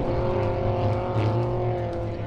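Ice racing cars roar across a frozen lake in Maine, a steady loud engine drone with a slight rise and fall as the cars pass, no voices.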